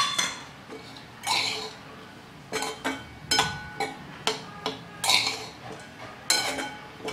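Boiled potato, cut into small pieces, goes into a pan of sabudana khichdi, giving a series of sharp clinks and taps of a utensil against the pan, about a dozen spaced knocks over several seconds, close and moderately loud.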